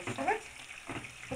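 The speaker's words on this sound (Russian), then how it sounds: "пока у нас жарится лук" An onion fries in a pan while making meat under lavash, giving a steady soft sizzle with a brief louder stir near the start and another swell toward the end, without talk.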